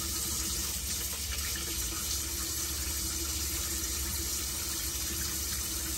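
Tap water runs steadily into a sink while green beans are washed, a constant close gushing rush with no pauses and no talking.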